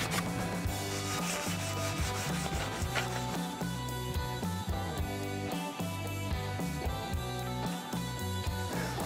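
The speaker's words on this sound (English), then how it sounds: "the scourer side on the front part of the frames, and even on the bottom of the radiator tanks here, across here, just a light scour across" A scourer sponge scrubs across a dirt bike's frame and the bottom of its radiator tanks, giving a steady, continuous rubbing and scraping that runs close and loud without pause.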